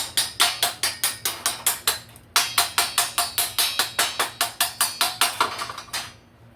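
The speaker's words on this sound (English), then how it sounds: "That little hammer," Rapid, evenly spaced metallic taps of a small hammer striking a weld, about two dozen sharp strikes in two bursts with a brief pause between, close and fairly loud.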